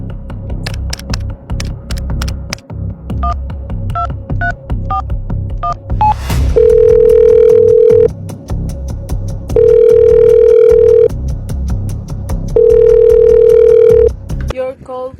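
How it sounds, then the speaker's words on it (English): Telephone dialing in a radio drama: a run of rotary-style dial clicks and tones, then a steady dial tone repeating in three long bursts, loud and close with a faint voice underneath. "Operator, I have been dialing Murray Hill 40098 now for the last 3/4 of an hour"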